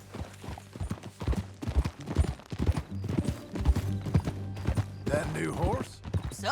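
Rhythmic hoofbeats clip-clop steadily over a continuous low hum, with a horse's whinny breaking in near the end, in the video game Red Dead Redemption 2.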